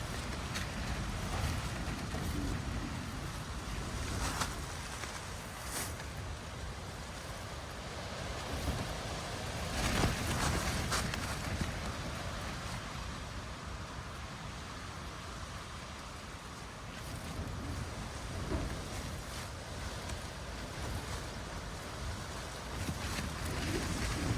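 Wind gusts around a tent pitched outdoors, about 25 km/h, a continuous broad rushing roar that swells and eases with sharp flaps and rattles of fabric, fairly faint and steady.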